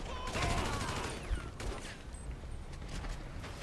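Rapid gunfire bursts in the video game GTA V Rampage, dense overlapping shots fading into scattered reports, fairly faint and continuous with a voice briefly underneath.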